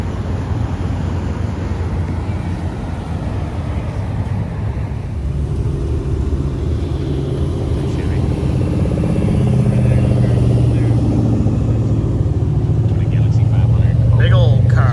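A Dodge pickup truck with a 5.9 Cummins diesel engine rumbles at a car show and cruise, a deep steady engine drone that grows slightly louder near the end, with people talking over it.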